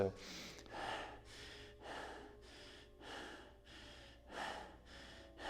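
A person deliberately performs shallow, panicked breathing to mimic anxiety: a quick, even run of about eight sharp breaths, close and fairly loud, with no words spoken.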